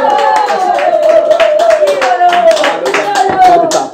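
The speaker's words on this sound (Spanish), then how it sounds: "¡Fuerte el aplauso para él!" A studio audience on a Spanish-language talk show applauds a guest while a loud voice speaks or shouts over the top. Individual claps are audible as sharp, irregular taps beneath the prominent voice.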